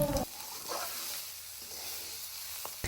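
Banana stem being stir-fried in a pan, giving a steady close sizzle throughout, broken by a few brief scrapes of the spatula.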